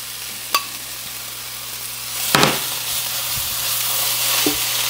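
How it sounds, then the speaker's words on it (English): Shrimp dropped into a hot pan for smoked shrimp fajita tacos, a loud burst of sizzling that swells and stays steady, with a few clinks of utensils. "let's go ahead and throw that shrimp right in there."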